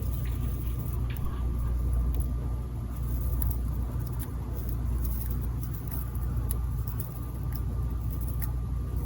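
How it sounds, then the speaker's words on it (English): Road traffic drifts in through an open window at night, a soft continuous wash of passing cars rising and fading, distant and low, with faint clicks and a steady room hum beneath. "What you hear in the background is traffic as my window's open"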